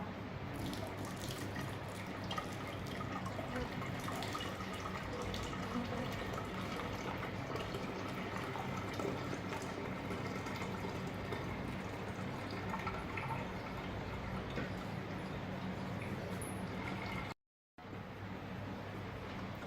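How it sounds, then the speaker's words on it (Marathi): Wheat starch water is strained from a pot while making homemade wheat kurdai, producing a steady, soft trickling and splashing of liquid that runs almost unbroken, with a brief dropout near the end. "पातेल्यातलं चिक गाळून घेऊया."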